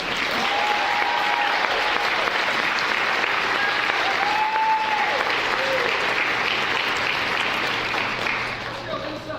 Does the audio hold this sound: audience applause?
yes